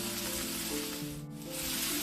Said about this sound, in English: We're going to start by sauteing our peppers and onions, add a little olive oil to a heated pan